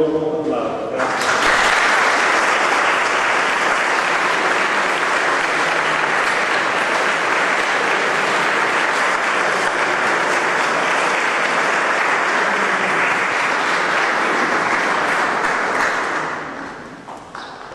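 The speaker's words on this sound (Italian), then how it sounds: "Salutiamo ora un grande e caloroso applauso" Warm, sustained applause from an audience at a homecoming gathering in an Italian village, loud and dense for about fifteen seconds before tapering off.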